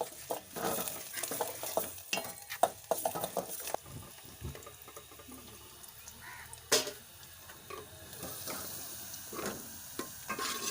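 Ghee heating in a cooking pan gives off a faint, quiet crackle and sizzle, broken by scattered scrapes and clinks of a utensil moving against the pan.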